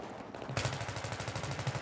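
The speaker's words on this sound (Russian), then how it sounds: "А вон ты откуда стреляешь?" Rapid automatic gunfire in Battlefield 3 co-op, a fast, steady stream of shots that starts abruptly and runs close and loud with no break.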